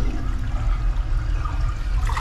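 A toilet water closet flushes after its handle is pulled, giving a close, steady gush and swirl of water that continues throughout without speech.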